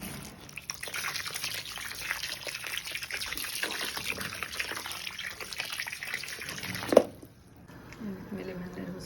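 Steady running water splashes from a tap for several seconds while peppers are rinsed, with a brief clatter near the end before it stops.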